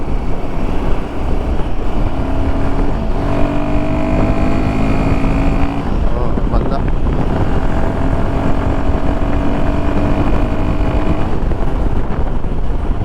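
A Royal Enfield Himalayan 452 motorcycle fitted with a performance kit accelerates through the gears, its engine drone rising in pitch in steps with shifts, loud and continuous with heavy wind rush and no talking.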